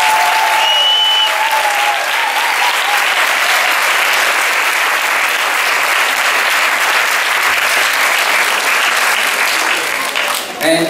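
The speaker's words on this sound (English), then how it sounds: "So please give them a round of applause." Parents applaud at a school Halloween event, a steady wash of clapping from a room full of people that holds for several seconds, with a few voices mixed in at the start and the clapping tapering off at the end.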